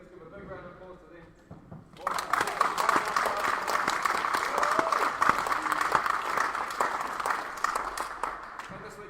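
Spectators at a wheelchair rugby tournament break into loud, sustained applause that starts abruptly after a quiet opening and fills the hall with dense clapping and crowd noise until the end.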